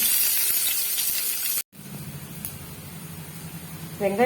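Crushed garlic and onion sautéing in a pan on the stove, a steady close hiss of frying with a brief silent gap partway through and a light clatter near the end.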